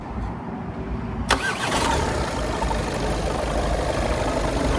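A diesel Skoda Octavia A7 engine cranks briefly, catches with a sudden burst, then settles into a steady, rumbling idle close by.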